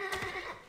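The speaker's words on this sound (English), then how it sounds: "This horse is fake." A brief horse neigh from the stealth video game Thief, a short whinny heard alone without talk.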